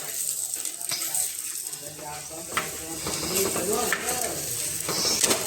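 A vegetable palya sizzles in a pan with chapati pieces added to cook in it, a continuous close frying hiss with voices talking over it.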